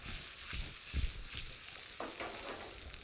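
Food sizzling in butter in a pan while being stirred, a steady frying hiss with a few soft scraping and stirring knocks, close and moderately loud, with no talking.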